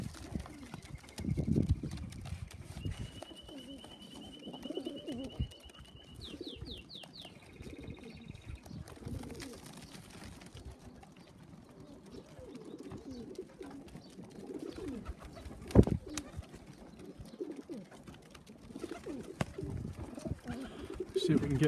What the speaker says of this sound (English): See if we can get a young bird over to the other shed.